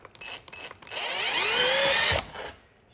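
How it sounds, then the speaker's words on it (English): A power drill whirs up to speed and runs steadily for about a second before stopping, loud and close, with a few light clicks before it, drilling an anchor hole for a pet door. "I'm going to drill my first."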